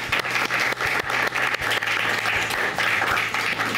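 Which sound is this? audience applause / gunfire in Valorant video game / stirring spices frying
audience applause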